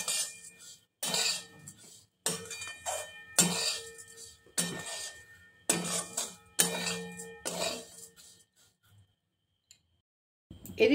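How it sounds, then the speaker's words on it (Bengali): A spoon scrapes and clinks against a pot in repeated bursts as sugar is stirred into a mixture, with short pauses between the strokes before it falls quiet. "ভালো করে নেড়ে নেব।"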